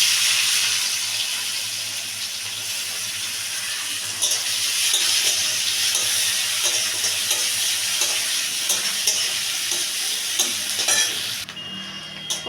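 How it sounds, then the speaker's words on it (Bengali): Onions frying in hot oil with bay leaf, green chili, cardamom, cloves and cinnamon for egg curry, a loud steady sizzle with intermittent stirring scrapes that drops off near the end. "এই তেলের মধ্যে দিয়ে দেবো পেঁয়াজ।"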